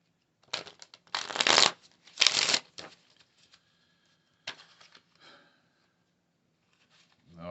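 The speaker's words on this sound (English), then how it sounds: "I'm going to pull one more card" Tarot cards riffled and shuffled in quick rustling bursts, close and fairly loud, followed by softer flicks and slides as single cards are drawn, with quiet pauses between.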